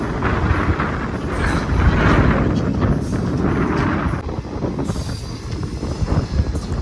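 The Puri–Tirupati Express pulls out of Tanuku station with a steady, loud rumble of rolling wagons and clattering wheels, brief squeals of wheels on rail, and gusts of wind buffeting the microphone throughout.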